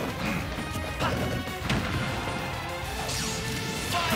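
Wolf lands a down air attack in a Super Smash Bros. Ultimate tournament match: a sharp crashing impact hits amid a dense, busy mix of game effects, with several smaller hits and swishes around it.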